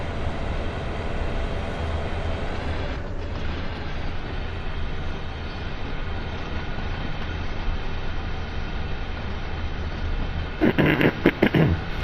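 A diesel freight train rumbling past in Train Sim World 2 on the Sand Patch Grade, a steady heavy rolling roar throughout with a brief burst of clattering near the end, no talk.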